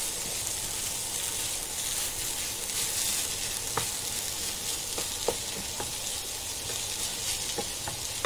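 Chicken filling for a wheat-flour cheese roll cooks in a pan with a constant close sizzle and crackle, punctuated by sharp ticks and spatula scrapes.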